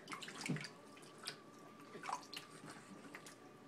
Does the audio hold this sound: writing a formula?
no